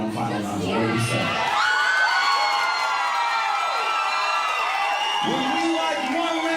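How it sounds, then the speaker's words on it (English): Audience at a live burlesque revue in St. Louis cheers, whoops and yells loudly, a dense continuous crowd roar with shrill high voices, with a voice speaking over it at the start. "If I can get one last roaring round of applause, I can get the Bombshells out here for one final round."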